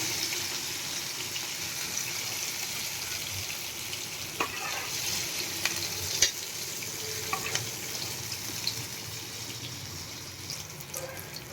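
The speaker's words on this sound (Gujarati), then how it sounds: "કેપ્સિકમ આપણે એકદમ સરસ ફ્રાય થઈ ગયા છે બે થી ત્રણ મિનિટ આપણે આને ફ્રાય કરવાના છે" Capsicum frying in a pan for restaurant-style paneer tikka, a steady close sizzle with scattered pops and light stirring clicks throughout, no talking.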